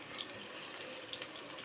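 Kitchen tap water runs in a steady, soft stream while utensils are washed at the sink, an even close hiss with faint clinks.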